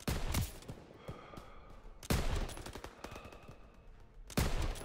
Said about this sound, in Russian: Пулеметы, открыть огонь!